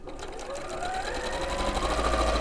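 Sewing machine stitching pinned fabric onto a quilt block for a cushion and quilt, a continuous close whirring hum that speeds up and rises steadily in pitch, with no talking.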